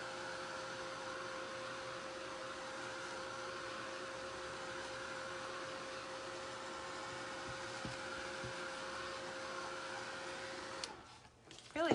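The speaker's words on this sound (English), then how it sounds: "I like to use my little Ranger heat tool. It just works great. It's not too loud" A small Ranger craft heat tool blows steadily and evenly for about eleven seconds, drying a Christmas napkin art piece, with a soft fan-like hiss that ends in brief handling clatter.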